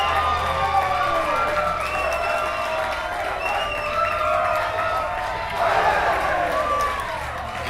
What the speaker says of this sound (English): And you can hear the Panther crowd